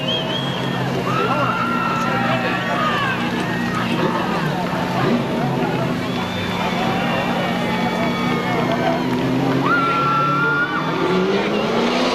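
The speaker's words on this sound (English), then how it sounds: "a sweet, slow, savory victory lap for car number 42" Race car number 42, a new 1999 machine, takes a slow victory lap at Seekonk Speedway, its engine droning steadily with occasional tire squeal while a voice talks over the continuous roar.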